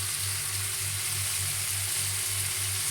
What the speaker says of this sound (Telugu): కొద్దిగా బాగా ఫ్రై అవనిద్దాం